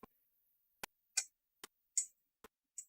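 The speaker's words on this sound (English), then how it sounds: "it's just clicking and ticking" Sharp, dry clicks and ticks sound one at a time, about seven spaced irregularly across a few seconds, quiet and close with silence between them.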